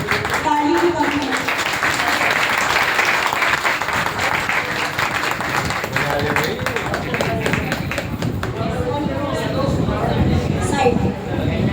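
An audience claps steadily at a Panch Kalyanak ceremony in a Shri Digambar Jain temple in Meerut, the applause sustained and loud throughout, with voices and chanting mixed in beneath.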